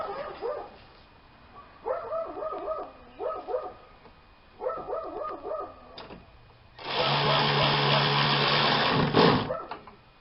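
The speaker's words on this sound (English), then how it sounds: "Guess I'm going to go see what's getting these dogs all riled up." Several dogs bark in repeated rapid bursts of yips and barks, moderately near, with quiet gaps between volleys; a steady broadband mechanical hum then swells loudly near the end and masks the barking.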